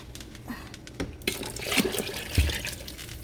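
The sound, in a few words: water being poured into pumpkin soup pot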